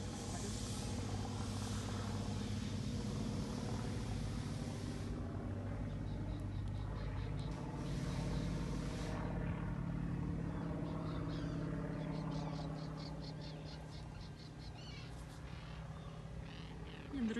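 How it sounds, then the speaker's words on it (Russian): A faint, steady mechanical hum drifts overhead, like a small drone flying at a distance, with soft outdoor background noise. "Так, ну что-то гудит. Вижу, что дрон летает."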